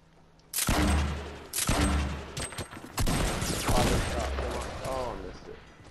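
Bursts of rapid gunfire and blasts from a squad match in Fortnite, loud and close, repeating in several volleys across the clip.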